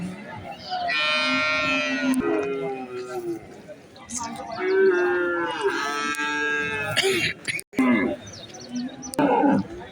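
Cattle at the Valliyoor cow market in Tirunelveli moo repeatedly in long, loud calls that overlap one another, with crowd chatter and voices filling the gaps.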